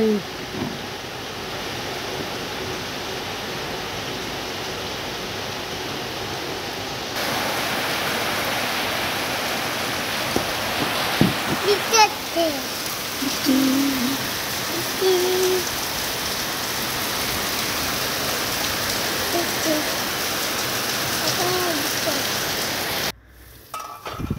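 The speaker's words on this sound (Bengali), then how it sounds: "খুব ঝেঁপে এবং জোরে জোরে বৃষ্টিটা হচ্ছে।" Heavy rain pours down outside a home kitchen, a dense, loud, steady roar of drops with faint scattered knocks and brief voices, cutting off abruptly near the end.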